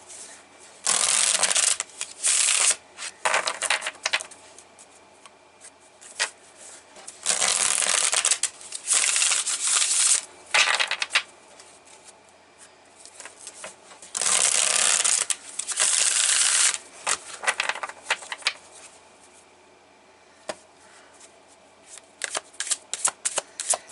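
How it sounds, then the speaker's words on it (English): Tarot cards are shuffled and drawn in repeated bursts of crisp riffling and sliding, close to the microphone, separated by quieter pauses with faint handling noise. "Let me take some cards here to clarify."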